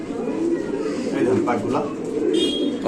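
Pigeons coo softly in a low, throaty murmur, mixed with steady background chatter and a voice talking nearby.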